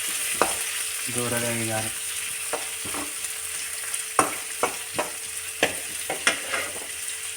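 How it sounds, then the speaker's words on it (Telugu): Curry leaves and onions fry in a pan with a steady sizzle while a utensil stirs and knocks against the metal in irregular clinks. A voice speaks briefly near the start. "కరివేపాకు, ఉల్లిగడ్డలు వేయండి. కొద్దిగా ఫ్రై చేసుకోవాలి."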